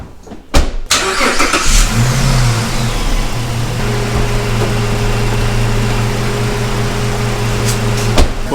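A 3.7 liter V6 car engine, freshly serviced with new oil after an engine flush, cranks with a short starter burst and catches, then settles into a steady, close, even idle.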